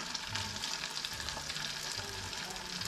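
Sliced onions sizzle and crackle steadily in butter that has already browned in a pan for a rice side dish, a dense continuous fry with faint stirring, close and alone with no talk.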